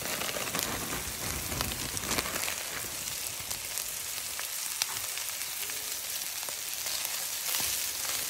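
Shredded coleslaw mix sizzles in a pan with sesame oil, a steady crackling fry with occasional stirring scrapes, close and continuous with no voices.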